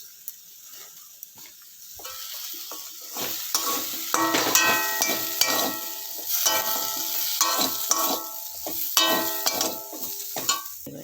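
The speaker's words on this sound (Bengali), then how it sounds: "এবার আমি একে একে একটু হলুদ গুঁড়ো, লঙ্কা গুঁড়ো, একটু জিরে গুঁড়ো, এইগুলো একটু দিয়ে দেবো বন্ধুরা।" Turmeric, chili and cumin powders fry in a pan in a home kitchen, a soft hiss joined by repeated scraping stirs of a utensil, with rhythmic clinks and no voices.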